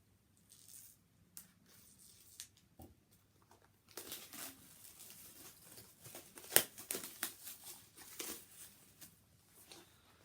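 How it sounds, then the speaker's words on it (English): Cellophane wrapping is peeled and crinkled off a hardcover art book, with a quiet stretch first, then close, dense rustling and crackling bursts, one sharp tear near the middle. "So let's get this open because it's still in its cellophane packaging."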